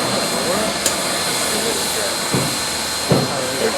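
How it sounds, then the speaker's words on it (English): Southern Railway steam locomotive 4501, built in 1911, gives off a steady loud hiss of escaping steam at a railroad museum in Chattanooga, with a few brief knocks over it and someone speaking nearby. "Ladies and gentlemen, locomotive 4501."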